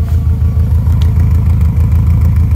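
A Subaru WRX with a GF8/GC8 engine swap and aftermarket exhaust is heard from inside the car as a loud, deep, steady burbling drone with a pulsing low rumble, alone without talk.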